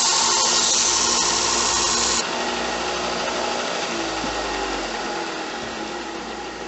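A belt grinder works the flat sides of a hunting knife handle, a loud steady whirring drone with a bright abrasive hiss that cuts out after about two seconds, leaving the motor to spin down and fade.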